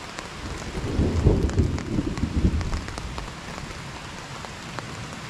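Thunder rumbles loud and close through a mountain storm, rolling in heavy low swells over the first few seconds before easing, while steady rain patters on a tarp shelter overhead.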